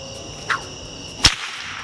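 A handmade bullwhip cracks twice, a softer snap followed by one sharp, loud crack, each short and close in an otherwise quiet space.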